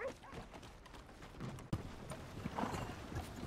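Horse hooves clip-clopping at a walk in the game Red Dead Redemption 2, soft uneven beats with a sharper knock midway, over low ambient game sound.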